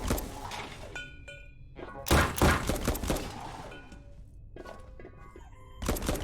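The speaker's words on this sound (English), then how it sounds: "I really wish those gunshots weren't so loud." Loud, close gunfire from the roguelike video game The Pit 2 comes in heavy bursts separated by quieter stretches, with thudding impacts and electronic game tones between shots.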